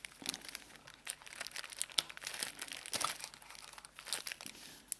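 Crinkly plastic crackles and rustles as tightly wrapped earphones are pulled from their packaging, close and irregular, with no speech.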